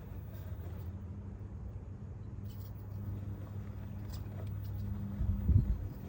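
An RC rock crawler fitted with an 84 pinion gear drives over rock, with a steady low electric motor whine and drivetrain hum throughout that swells into a louder grinding burst near the end, close by.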